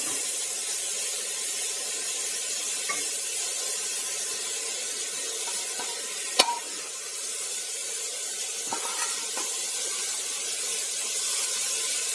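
Grated beetroot sizzling in a hot pan for halwa, a steady broad hiss of frying that holds for the whole stretch, with a few light clicks and a single sharp tap of a utensil.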